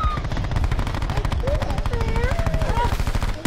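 Rapid automatic gunfire in the video game Call of Duty: Black Ops 4 rattles in fast, even bursts across the whole stretch, with game effects and faint voices mixed in.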